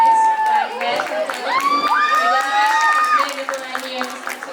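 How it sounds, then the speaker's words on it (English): An audience at a Model UN closing ceremony in Nepal cheers loudly, with rising whoops and shouted voices over light, scattered clapping. "let's also give a huge round of applause to our Executive General, Ms. Bibi Shadikari"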